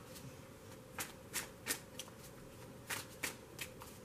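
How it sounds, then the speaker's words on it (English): Tarot cards are shuffled by hand, a quiet close riffling broken by soft irregular flicks and taps over a faint steady background hiss. "I'm just shuffling while I'm still looking at the cards"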